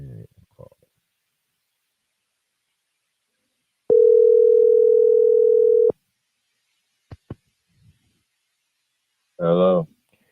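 A phone call placed during a podcast: one steady electronic ringing tone lasts about two seconds, followed by a few sharp clicks, then a brief voice answers at the end.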